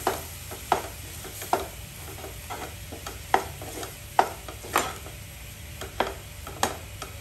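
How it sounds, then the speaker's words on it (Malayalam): A mixture of mashed banana and wheat flour being stirred over a low flame, with soft continuous scraping and a series of sharp spoon knocks against the pan every half second or so, close and alone without talk. "ഗോതമ്പ് പൊടിയും പഴവും കൂടെ നന്നായിട്ടൊന്ന് മിക്സ് ചെയ്യാം."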